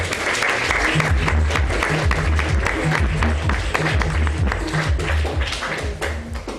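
An audience at a slam poetry event applauding a poet, dense steady clapping from a crowd that holds for about six seconds and thins slightly toward the end.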